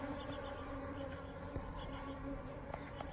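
Honey bees buzz around a hive box set up while removing a colony from house columns, a steady faint hum with occasional closer passes outdoors.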